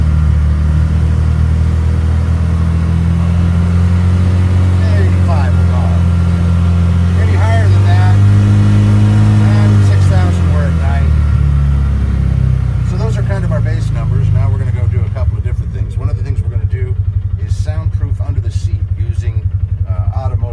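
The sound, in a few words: Polaris Ranger 570 engine revving to 5000 rpm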